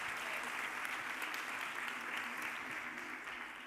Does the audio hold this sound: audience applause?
yes